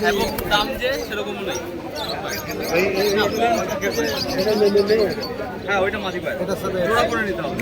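Pigeons coo and flutter among crowds at the Birnagar pigeon market, including Giribaz birds. Soft cooing and chatter run continuously beneath loud, steady talk from nearby people.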